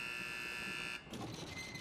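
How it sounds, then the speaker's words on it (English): A video game door timer reaches zero and an electronic buzzer sounds: a steady, moderately loud tonal buzz holds for about a second, then cuts off, leaving a faint room hiss with no talking. "Okay, a buzzing sound."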